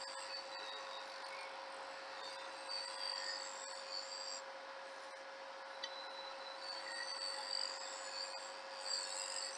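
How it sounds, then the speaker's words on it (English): A spindle gouge makes steady shearing cuts on wood spinning on a lathe, a faint continuous hiss over a constant motor hum, with no talk. "I'll lay my spindle gouge over And I'll start some shearing cuts"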